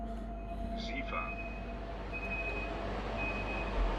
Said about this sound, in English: What's that beeping sound? Is that coming from my locomotive?